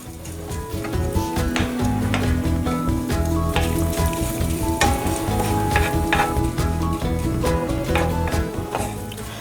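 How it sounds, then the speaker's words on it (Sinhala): Chili pieces frying in hot oil in a pan while Sri Lankan wambatu moju is being prepared, a loud, continuous sizzle broken by repeated scraping and stirring strokes. "තෙල් ටික රත් වෙනකොට ඒකට මිරිස් කෑලි ටිකක් දාගන්නවා."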